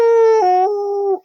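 A person imitates a large, happy white dog howling with a drawn-out, tonal "ooh" that steps down in pitch twice before cutting off, loud and close.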